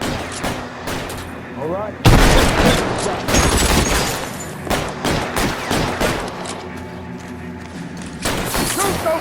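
Rapid bursts of gunfire from the L.A. Noire video game on PC, with loud overlapping shots and volleys across the whole stretch while a voice speaks briefly among them.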